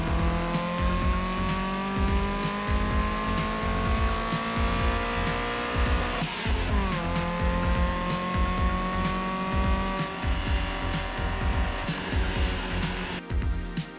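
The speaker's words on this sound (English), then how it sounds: "This is a naturally aspirated FJ20 revving up to red line." A naturally aspirated Nissan FJ20 engine winds up toward redline, a loud continuous rising rev whose pitch climbs steadily, dips sharply midway, then climbs again with dense mechanical roar throughout.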